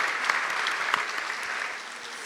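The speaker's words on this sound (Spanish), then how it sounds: "tenemos que daros un aplauso" An audience at a conference forum applauds after a talk, a steady, moderately loud spread of many hands clapping with a few sharper claps, tapering slightly at the end.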